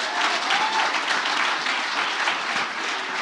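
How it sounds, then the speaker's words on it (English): Sustained audience applause at a startup pitch night, a dense, steady wash of many hands clapping from start to finish with no pause. "Give an extra, being last is hard, so extra, round of applause."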